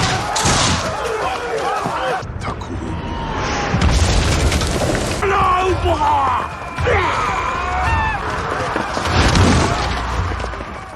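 Cannon fire and booming blasts in a battle scene of a Maori tribal war film, heavy thuds recurring amid dense clamour with voices shouting throughout.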